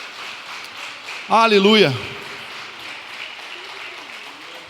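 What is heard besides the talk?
church congregation applause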